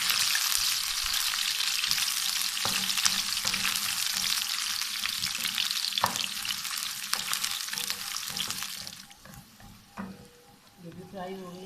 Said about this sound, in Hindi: इसी तरह शिमला मिर्च भी फ्राई कर लेंगे।